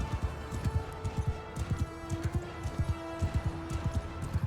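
Horse hooves clip-clop steadily at a quick gait in the medieval combat game Mount & Blade II Bannerlord, a continuous rhythmic thudding cadence close by with faint battle ambience behind.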